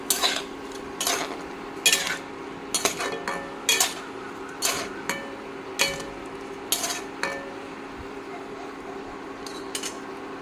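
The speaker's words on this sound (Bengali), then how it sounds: "ভালো করে মিশিয়ে নেব" A spoon stirs turmeric, chili powder and salt into a drumstick curry in a pot, scraping and clinking in a regular rhythm of about a dozen close metallic strokes.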